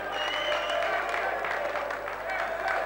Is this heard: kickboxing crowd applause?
yes